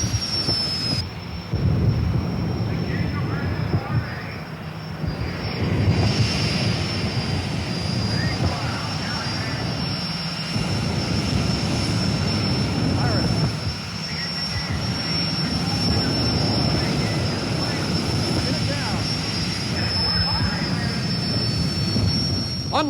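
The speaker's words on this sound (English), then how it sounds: "You're about to see two jet funny cars drag race on the quarter mile." Two jet funny cars drag race on a quarter-mile strip, jet engine thrust producing a loud, sustained roaring rumble with a high whine over it that rolls on continuously, heard from the crowd side, with talk faintly beneath.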